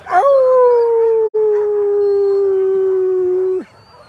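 A sled dog at the start of the Knik 200 mile race lets out one loud, close, sustained howl of about three seconds, steady in pitch before it breaks off.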